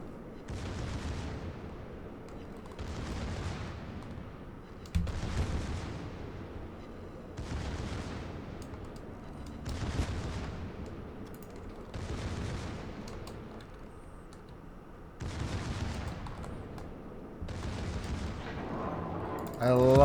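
Secondary battery guns on the American battleship Ohio fire in World of Warships, a steady rhythm of booming salvos roughly every two and a half seconds, loud and continuous with a constant low rumble beneath.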